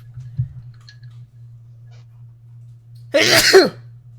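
A single sharp sneeze bursts out after a long quiet stretch with a low steady hum beneath, close and fairly loud, then stops abruptly.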